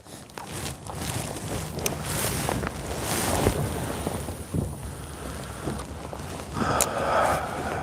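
Light west wind of about 5 to 6 miles an hour on Oneida Lake, rushing steadily over the microphone from an open fishing boat, with faint water lapping underneath.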